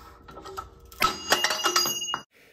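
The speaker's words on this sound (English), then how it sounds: "That was the sound of the Dyneema breaking" A Dyneema rope under jack tension creaks and strains, then snaps with a sudden loud crack followed by a burst of clattering, rattling noise that fades out after about a second.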